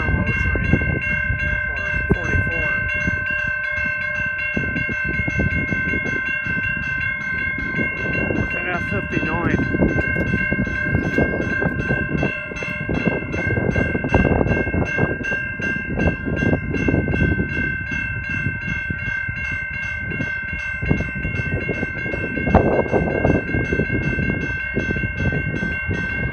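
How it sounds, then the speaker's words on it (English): GO Transit EMD F59PH diesel locomotive and cab car passing a grade crossing, with a steady loud rumble, clattering wheels and a continuous ringing crossing bell over the whole stretch. "142 eastbound load train."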